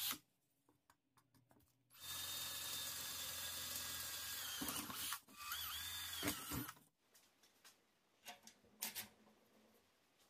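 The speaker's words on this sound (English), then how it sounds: "I'm going to punch all the holes and drill them." A power drill bores holes in a steel gate in two sustained whining bursts, one loud and one shorter, with a brief stop between them. Quieter clanks and shop clatter come before and after.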